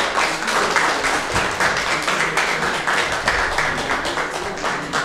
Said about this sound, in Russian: Продолжаем аплодисменты на Светлану Романенко.